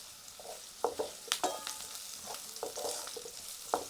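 Chopped onion with curry leaves fries in a pan for an Ayurvedic vegetable dish, a steady close sizzle broken by several sharp scraping stirs of the spatula.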